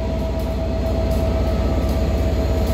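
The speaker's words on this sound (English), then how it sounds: "Class 323 Networker." A Northern Trains Class 323 Networker electric unit at Stockport station gives a loud, close, steady rumble with a sustained whine and faint rhythmic wheel clatter.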